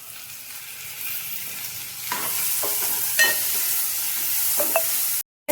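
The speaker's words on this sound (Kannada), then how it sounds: "ಟೊಮೆಟೊ ಚೆನ್ನಾಗಿ ಫ್ರೈ ಆಗಿದೆ." Tomatoes and onions fry together with curry leaves in a pan, giving a gentle continuous sizzle broken by several clinking scrapes of a spoon stirring, close and fairly quiet, ending abruptly.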